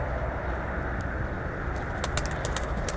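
Tumbler pigeons give soft cooing under a constant outdoor wash of background noise, with a few brief high chirps near the end.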